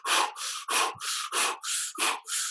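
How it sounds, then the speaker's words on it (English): Eight forceful, rhythmic breaths pushed through an O-shaped open mouth from the belly, as in Kundalini yoga breathing, each a sharp, breathy rush close to the listener with brief pauses between. "it's a powerful breath through an O-shaped open mouth"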